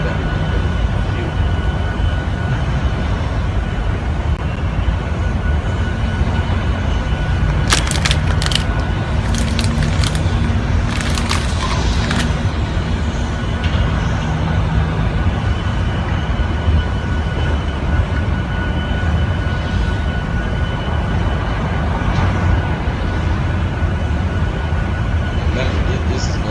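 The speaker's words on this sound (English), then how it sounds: "You see the movement, military vehicles and trains right here." A train hauling military vehicles rumbles past steadily as a loud, continuous low roar with some brief higher-pitched metallic squeals in the middle, and a voice is heard over it.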